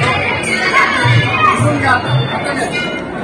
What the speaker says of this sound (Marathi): तर त्यामुळं या ठिकाणी भाविकांची भरपूर अशी अलोट गर्दी होते